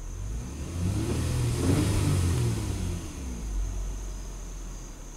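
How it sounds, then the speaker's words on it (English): A Honda Ridgeline pickup engine, being diagnosed for a P0171 lean check-engine fault, revs up and holds a steady mid-pitched drone close by, easing slightly near the end, with no talk. "Let's rev it up again."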